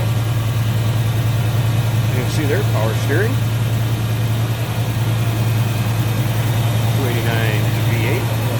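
A 1966 Ford Mustang's 289 V8 idles with a steady low rumble, close up in the open engine bay, while someone talks over it.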